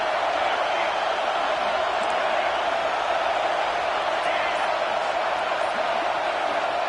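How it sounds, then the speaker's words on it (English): Broad, steady stadium crowd roar in a college football video game, a dense wash of cheering behind the defense holding in the red zone, sustained and even throughout with no distinct voices standing out. "The crowd getting behind this defense as they try to get a stop in the red zone."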